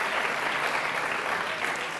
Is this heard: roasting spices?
no